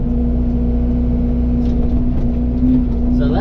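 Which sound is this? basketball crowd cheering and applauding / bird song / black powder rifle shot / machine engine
machine engine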